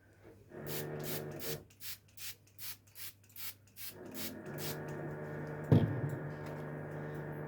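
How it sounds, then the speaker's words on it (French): A hairbrush is drawn through hair in a run of about ten quick, evenly spaced bristly strokes, close and soft, followed by a sharp knock and a faint steady hum. "On repasse la brosse."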